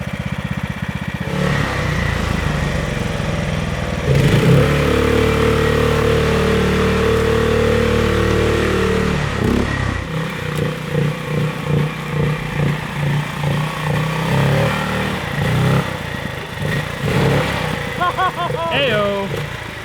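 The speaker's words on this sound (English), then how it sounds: "I really think we have a defective engine here." A 420cc ATV engine with a suspected fault runs close by, idling roughly, then rising into a sustained high rev before dropping to an uneven, pulsing idle, with voices talking over parts of it.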